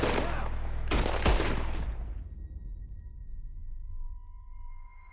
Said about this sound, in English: I guess I wasn't supposed to shoot her.